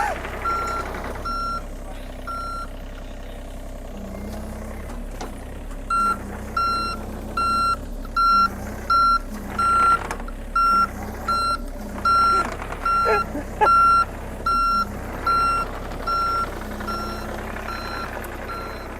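Excavator backing up on gravel, its reversing alarm sounding in a steady run of evenly spaced beeps over a continuous diesel engine rumble, fairly close, with a brief voice calling out directions.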